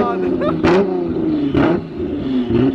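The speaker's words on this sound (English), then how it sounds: "There's cars over there getting revved" Sports car engines rev in a parking lot full of Porsches and Lamborghinis at an expensive car show, with several sharp, loud bursts of revving under a steady engine drone while a person talks.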